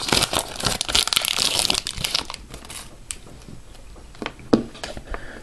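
A 2011-12 Score Hockey card pack wrapper crinkles and tears open up close, a dense burst of crackling foil at first that thins into scattered sharp crinkles and snaps.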